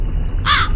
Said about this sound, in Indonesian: Gagak, suara gagak.